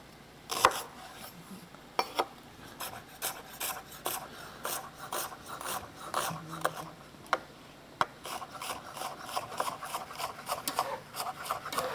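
Half a white onion being cut with a knife on a board, a steady series of sharp, close chopping taps that speed up toward the end, with no talking.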